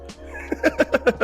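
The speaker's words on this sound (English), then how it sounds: "I don't know why Mochi's meowing." A pet cat meows five times in a quick, evenly spaced run, close and fairly clear, following a single softer mew, with a steady low hum underneath and no talking.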